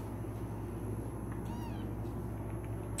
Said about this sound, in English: Now, come here, little kittens.